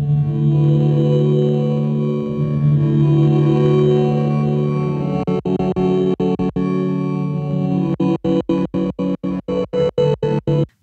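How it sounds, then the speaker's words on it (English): Electric guitar through a Dark Star pedal feeding a Copper Sound stutter pedal: a sustained, thick droning chord that gets chopped into rapid rhythmic gated bursts in the second half, loud and up close with no voices. "On the other side, I got my Dark Star with the copper sound stutter pedal."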